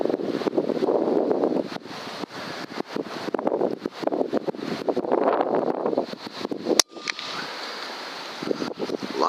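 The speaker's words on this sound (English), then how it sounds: "Lots of wind." Strong gusty wind buffeting a microphone outdoors during a December mouse hunt, loud roaring surges with rustling, a brief sharp knock midway, no voices.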